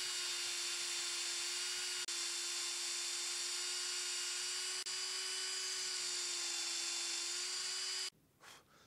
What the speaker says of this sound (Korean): 저는 뒤에서 봤을 때 제 위치로 가는지만 확인을 하고 뚫을 거예요.